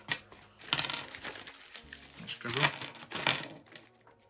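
Metallic clinking and jingling of small coins shifting and rattling together inside a parcel, several bursts of rustling jangle, close by with a faint voice in the background.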